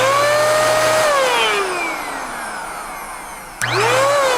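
EVO-S handheld car dryer blowing air, a loud close motor whine that winds down in pitch after a second, then abruptly spins back up to full speed near the end, with no voices.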